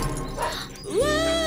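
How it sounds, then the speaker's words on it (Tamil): A dog in a Tamil comedy scene gives a brief, close yelping bark that rises into a drawn-out whine near the end, in a short snippet with background noise. "நாய் குறைக்கிற சத்தம் கேக்குதுடா."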